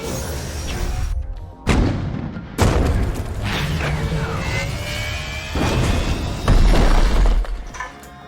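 A spacecraft crash-landing in the Mobius video game, with several heavy booming impacts and shattering, crunching debris over a sustained rumbling roar. Metallic scrapes and whooshing tones sweep through, loud and close, with no voices.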